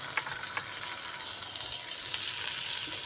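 Chopped onion fries in oil in a pan for bakery-style masala toast, giving a steady, close hiss and crackle with faint stirring scrapes throughout and no talk.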